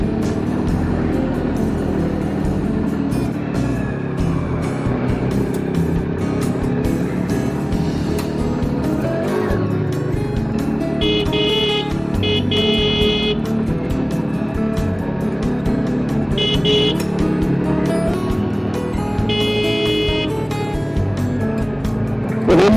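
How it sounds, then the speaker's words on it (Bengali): A car engine drones steadily while climbing a Darjeeling mountain road in second gear, a loud, continuous hum close to the cabin with some faint higher tones now and then. "গাড়ি আমার সেকেন্ড গিয়ারে তুলছি আস্তে আস্তে।"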